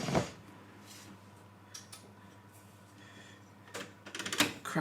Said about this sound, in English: Shut that door quickly.